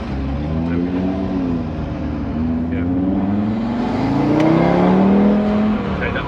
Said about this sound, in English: I think definitely intake. You can just like hear that sucking kind of noise.